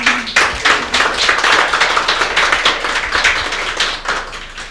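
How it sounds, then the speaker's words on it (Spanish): An audience at an academic laboratory conference on hemostasis claps in a dense, steady round of applause lasting several seconds, tapering slightly toward the end, with no voices over it. "un gran aplauso por favor nuevamente"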